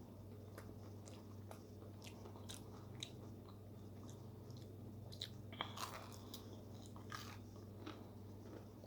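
Crunchy Arby's chicken strips are chewed close to the mic, soft repeated crackling bites over a low steady hum, no talking.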